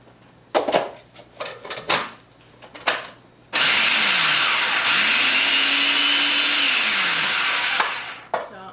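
A food processor purees scooped, cooked Cinderella pumpkin flesh in a loud, steady whir lasting about five seconds, its motor pitch dipping and rising, after a few short clunks of scooping and handling.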